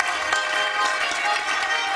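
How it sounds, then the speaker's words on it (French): Studio audience applause on a French television show, a loud, even roll of many hands clapping with faint crowd murmur mixed in. "Sous un tonnerre d'applaudissements, Alexandra Hubler."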